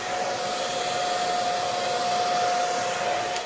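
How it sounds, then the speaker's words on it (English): Hair dryer blowing over freshly poured acrylic paint on a blue base, a loud, steady, continuous whoosh with a faint constant whine, running unbroken throughout with no talking. "Hair dryer, blow dryer."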